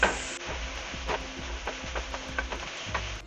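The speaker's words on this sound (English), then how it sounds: "I'm going to cook that up until the spinach is wilted" Bok choy and spinach stirred in a pan with a spoon or spatula, soft repeated scraping strokes in an even rhythm over a faint sizzle, close and fairly quiet.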